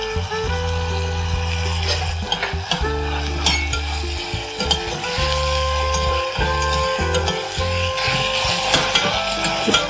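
Ginger and garlic sauté in a pan and are stirred, giving a continuous sizzle broken by repeated scraping stirs and a few clinks of the utensil, close by and with no speech.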